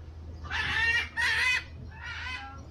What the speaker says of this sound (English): I just turned around and saw that there's wild birds.